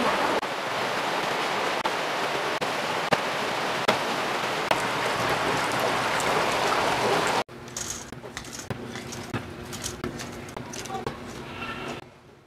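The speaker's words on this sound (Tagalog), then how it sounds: "Lakas ng ulan." Dense, hissing downpour roars steadily for several seconds, then cuts to a quieter scene with scattered clatter and faint sounds.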